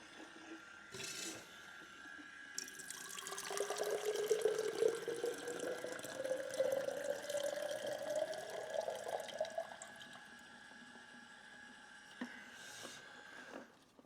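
Chemical poured out of an AGO film processor: a faint, steady stream of liquid gurgling into a container for several seconds, quiet and close, with a few light knocks at the start and end.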